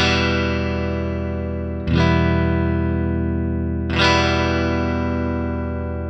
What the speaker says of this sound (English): The electric guitar.